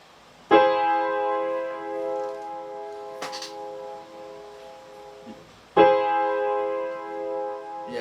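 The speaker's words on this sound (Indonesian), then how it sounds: "saya bunyikan sekarang dengan mi yang ada di bawah" An augmented chord with E in the bass rings out twice, each a sustained, bright tone held for several seconds before fading, with a faint tap between them.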